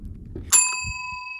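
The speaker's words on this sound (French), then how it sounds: "J'ai sonné la cloche pour une 4e fois." A single bright bell strike in a horror video game rings out clearly and then sustains a long, pure metallic tone that slowly fades, with faint low background sounds underneath.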